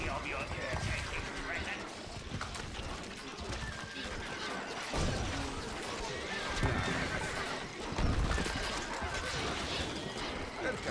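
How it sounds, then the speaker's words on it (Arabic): A horse neighs repeatedly in the medieval strategy game Stronghold: Crusader, with hoof clip-clops and game effects, the whinnies coming and going amid talk. "الفرس تعب. الحصان سريع."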